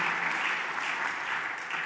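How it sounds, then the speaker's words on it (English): A conference audience applauds its speakers, a dense, even wash of clapping that carries on without a break. "I would like to give a round of applause to our great speakers"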